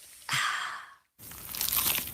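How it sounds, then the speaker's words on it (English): A crunchy bite into a cheesy pizza slice sounds in two loud, crisp bursts separated by a brief silence, close up and with no talking. "Is that the sound of an ooey gooey cheesy crunchy slice of P-I-Z-Z-A?"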